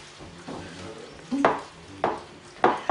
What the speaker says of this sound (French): Et après, avec ta main, tu les mélanges.